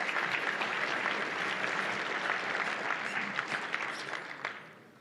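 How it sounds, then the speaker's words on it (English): Applause from the crowd at a security conference closing ceremony, steady dense clapping that fades out over the last second. "So give us some applause"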